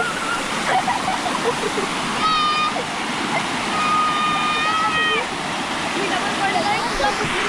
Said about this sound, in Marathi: तर आहे खाली धबधबा